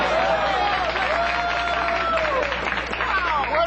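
A studio audience cheers and applauds loudly in a steady continuous wash of clapping, with whooping voices over it.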